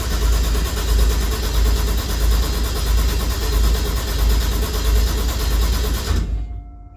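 Toyota 1JZ engine in a Nova cranking on its starter with no fuel, a steady loud churning whir for about six seconds before cutting off abruptly into near silence.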